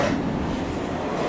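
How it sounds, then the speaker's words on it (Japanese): A local JR passenger train on the Iyonada line toward Matsuyama, heard from inside as a steady low rumble of wheels and running gear, continuous and close, with no voices. "15時15分発の普通列車愛ある伊予灘線経由の松山行きに乗車"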